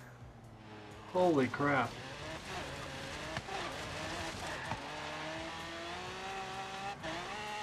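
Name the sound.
car skidding and sliding past a turn in the video game Forza Horizon 3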